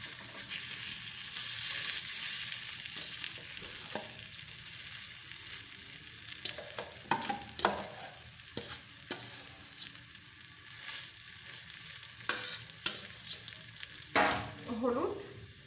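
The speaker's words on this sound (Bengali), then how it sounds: "এরপর এতে অল্প করে একটু সাদা জিরে দিয়ে দিলাম। এগুলো ভাজা হয়ে গেলে" Cumin seeds fry in hot oil for a potato chop, a steady soft sizzle with occasional stirring clicks and scrapes, fairly quiet and close with no talking.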